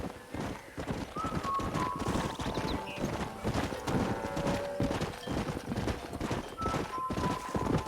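Horse hooves clip-clopping in a steady rhythm in the Red Dead Redemption video game, with occasional whinnies and snorts riding over the gait, moderately close and without talk.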